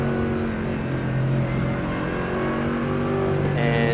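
A race car engine in the iRacing video game, roaring and revving continuously at high pitch, loud and close throughout with steady sustained drive and no talk.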